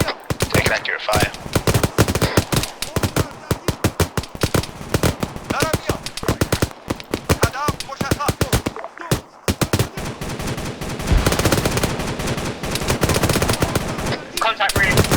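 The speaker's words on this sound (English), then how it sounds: "get covering fire" Dense bursts of automatic and single-shot gunfire from an ArmA 3 military simulation firefight, loud and nearly continuous with brief gaps, firing overlapping in rapid volleys.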